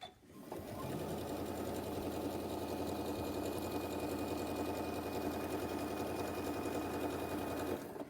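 A sewing machine runs steadily for several seconds while stitching a table mat, its motor whirring at a constant fast rhythm, close and loud, before stopping near the end.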